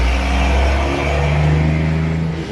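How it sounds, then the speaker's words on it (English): A loud truck passes close by, a steady heavy engine roar with a deep rumble that swells and holds for the whole stretch, heard alone with no talking. "loud truck."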